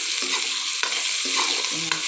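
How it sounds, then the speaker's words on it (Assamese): Garlic, chilli, ginger and spices with turmeric and salt sizzle in hot oil, a steady bright frying hiss close by, broken by a few scraping stirs of a spatula. "নহৰু, জলকীয়া, আদা আৰু মছলা সোপা হালধি নিমখ দি কিনি গোটেইখিনি ভাজি লওঁ।"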